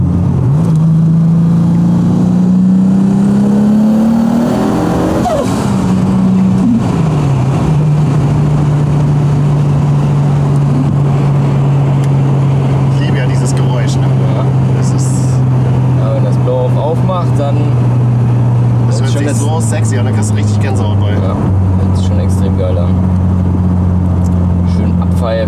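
A BMW E28 engine fitted with a new turbocharger revs hard on a dynamometer, a loud, sustained roar climbing in pitch, briefly dropping, then holding at high revs near the limiter, with people talking over it.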